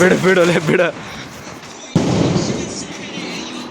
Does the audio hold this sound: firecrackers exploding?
yes